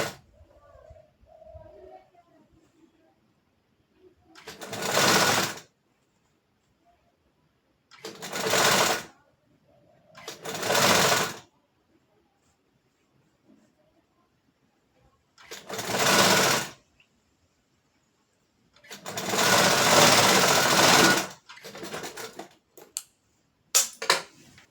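A sewing machine stitching the sleeve of a nightie runs in about seven separate loud bursts of rapid stitching, with quiet pauses between them and faint movement in the gaps.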